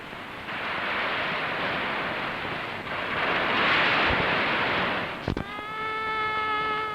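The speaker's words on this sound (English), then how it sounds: "Now, only the sound of breaking waves is heard." Waves breaking on the shore below Aguada Fort in Goa, a steady loud roar of surf under gusty wind, with a brief thump and a sustained tonal whine near the end.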